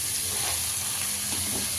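Potatoes, beans and carrots frying in a pan, a steady close sizzle and hiss with faint stirring, loud and unbroken throughout.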